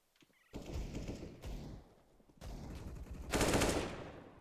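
Rapid automatic rifle fire from an AUG and an AK in a Counter-Strike match on Inferno, several separate bursts of gunfire with short gaps, the last burst loudest and closest.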